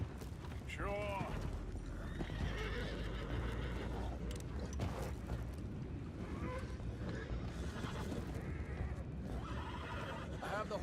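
Horses whinny and neigh amid clip-clopping hooves and creaking ship mechanisms in Red Dead Redemption 2, during a boat scene with an anchor, one clear neigh early then continuous loud busy game action throughout.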